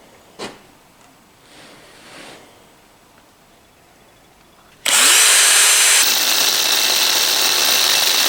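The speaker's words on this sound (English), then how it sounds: "I'm not drilling through, I'm drilling in" A drill bores into a granite worktop indoors, starting abruptly after a few seconds of quiet handling noise and then running loud and continuous, with a slight change in pitch partway through.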